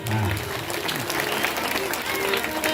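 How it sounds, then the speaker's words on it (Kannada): An audience at a spiritual discourse and devotional singing on Basavanna's life applauds in a sustained burst of clapping, with a voice heard over it. "ಜೋರಾದ ಚಪ್ಪಾಳೆ ಪೂಜ್ಯರಿಗೆ"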